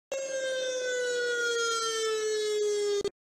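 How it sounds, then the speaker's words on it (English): A volcano eruption warning siren sounds as one steady, loud tone that slowly falls in pitch over about three seconds and then cuts off abruptly, with no other sound. "If there is an eruption, you will hear a siren that sounds like this."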